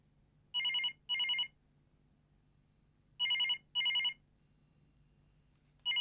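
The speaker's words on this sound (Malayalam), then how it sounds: "ഫോൺ." A telephone rings indoors in a home, sounding as paired electronic bursts repeated three times with quiet pauses between, clear and fairly near over a faint background hum.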